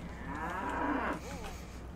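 A Brahmin, the two-headed mutant cow of Fallout 3, lets out a low, drawn-out moo with a bending, wavering pitch, sounding close and loud over a steady game background hum.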